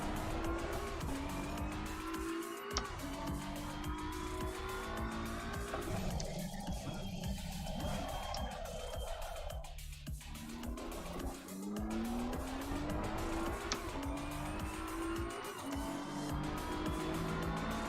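A BMW GT3 race car in the racing game Assetto Corsa Competizione roars continuously on a wet track, its engine pitch climbing and dropping through gear changes, with tire squeal and skidding mixed in.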